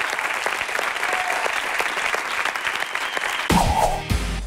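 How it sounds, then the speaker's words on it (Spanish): Studio audience at a Spanish television comedy programme giving loud, sustained applause, with a sharp burst of louder sound near the end. "Que es este fortísimo aplauso y reconocimiento del público que está aquí con todos nosotros."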